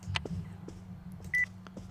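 Phone dialing beeps in the NightCry horror video game, a single short clear electronic tone amid faint clicks and a low steady background hum, no speech.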